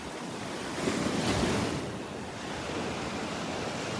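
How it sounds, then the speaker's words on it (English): Ocean surf rolls onto the sandy shore at Delnor-Wiggins beach, a steady wash of breaking waves swelling to a louder crest, then settling into a continuous hiss with wind buffeting the microphone. "Before the waves are pulling it back out into the water."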